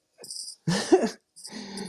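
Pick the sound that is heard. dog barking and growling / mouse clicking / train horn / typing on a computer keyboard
dog barking and growling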